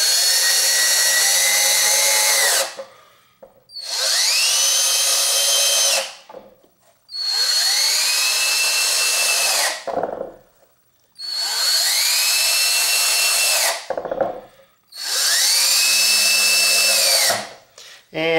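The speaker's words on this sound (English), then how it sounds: "I'm gonna go ahead and put in some of these screws" A power drill drives screws into a strip hinge on a wooden T-shirt screen printing press, whirring loudly in five long bursts separated by short pauses, each ending as the motor stops.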